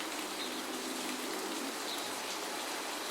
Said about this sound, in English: A nice rain atmosphere.